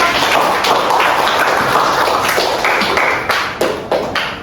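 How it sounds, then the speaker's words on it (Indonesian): Classroom applause for a student presentation group, a dense patter of clapping from a small group filling the clip, with a few sharper individual claps near the end. "Tepuk tangan dulu untuk kelompok."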